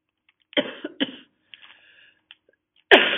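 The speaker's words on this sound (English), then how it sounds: "Very sorry for coughing, trying to get over my cold." Several separate coughs from someone with a cold, close up, two strong ones early, a few softer throaty sounds in between, then another loud cough at the end.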